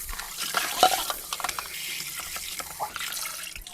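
Running water rinsing shredded potatoes in a bowl, a close splashing and swishing with water flowing over them, uneven bursts as the shreds are stirred, fairly quiet.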